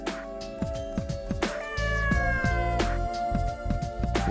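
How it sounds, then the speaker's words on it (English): A cat meows repeatedly in the Mind Zero video game, its cries rising and falling over a continuous tonal musical background, fairly loud and close throughout. "Is that a cat?"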